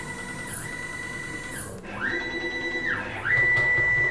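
A CNC mill's axis motors jog the spindle up off the workpiece with thin electronic whines. The tones step and sweep between short plateaus, fairly quiet and close, with no talking.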